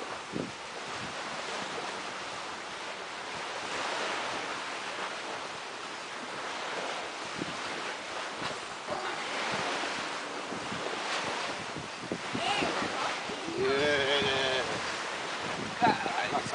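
Ocean waves wash onto a beach in a steady, soft surge with wind noise on the microphone, rising slightly toward the end, while voices talk faintly beneath.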